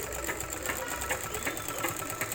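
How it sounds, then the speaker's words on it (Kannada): A sewing machine stitching the folded side seam of a petticoat runs in a steady, rapid mechanical whir with even needle clatter, moderately quiet and close, with no voices. "ಈ ಥರ ಫೋಲ್ಡಿಂಗ್ ಮಾಡಿಕೊಂಡು ಸ್ಟಿಚ್ ಮಾಡ್ಕೊಳ್ಳಿ ಸೈಡು"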